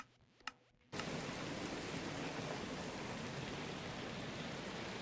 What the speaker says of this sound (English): You can hear it hitting the glass.